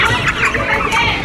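Chickens cluck at a busy poultry market stall, short close clucks and squawks over a dense crowd babble of shoppers and vendors.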